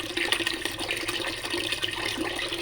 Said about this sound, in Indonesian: ketika airnya sudah cukup, kita cuci berasnya. Kita putar-putar seperti itu ya